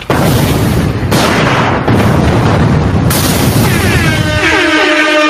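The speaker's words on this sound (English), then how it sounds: "put my explosions on because we about to get busy" Loud booming blasts with a dense, rumbling roar; a series of explosive bursts runs continuously, then ends in a ringing tonal whine.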